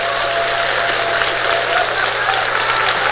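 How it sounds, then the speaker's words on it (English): Conference audience giving a board a round of applause, steady dense clapping from a large crowd throughout, loud and close. "give you all a round of applause for your dedication and hard work."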